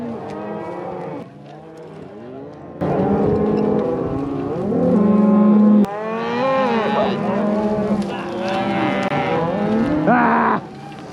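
Cattle moo repeatedly and loudly during a cattle drive, several animals calling in long, overlapping bellows from close by, with a brief quieter stretch early on.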